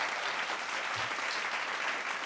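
An audience at a police bravery award ceremony applauds in welcome as a cabinet minister comes to the stage, a short, steady and fairly distant burst of crowd clapping.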